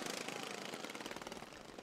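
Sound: racing lawn mower engines

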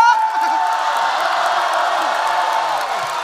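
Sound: audience cheering and egging the performer on

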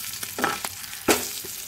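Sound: curry frying in a pan

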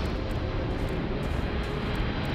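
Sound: spaceship landing, jet-like engine roar in Starfield video game

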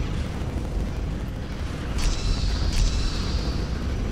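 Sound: nuke explosion in Battlestar Galactica video game

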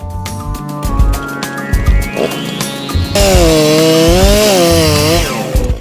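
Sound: chainsaw starting

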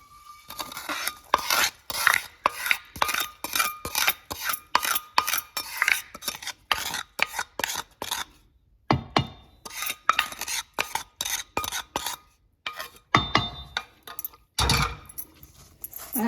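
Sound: mixing yellow cucumber pickle by hand

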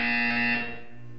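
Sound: buzzer sound in the video game Portal 2

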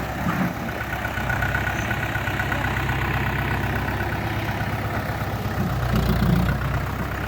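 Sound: Mahindra tractor engine running

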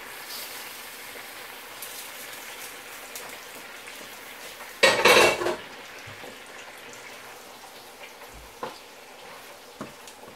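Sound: tomatoes placed in hot pan after cooking steak

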